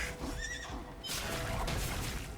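A horse in the video game Where Winds Meet lets out a loud whinny, a wavering high neigh followed by snorting and hoof noise amid game ambience.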